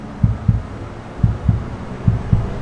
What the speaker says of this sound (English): You hear that? Little heartbeat.